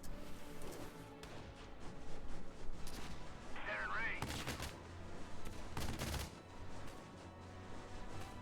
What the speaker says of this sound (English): Literally just loaded up depleted uranium SMG rounds and decided to shoot that tank to pieces